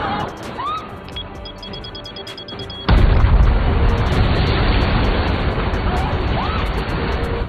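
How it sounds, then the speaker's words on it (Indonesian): A bomb goes off inside a desert cave, a sudden loud blast that gives way to a long, heavy roaring rumble, following quieter ambience with brief squeaks and clicks. "Mereka pun lari dan meledakkan bom itu."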